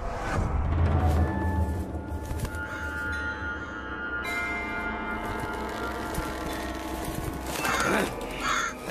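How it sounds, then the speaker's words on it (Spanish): Crows caw in a cinematic scene from a Middle-earth video game set in Mordor, giving several harsh calls over a low droning ambience with a faint bell-like ring, and a louder burst of cawing near the end. "Estos pájaros ya están muy bien alimentados."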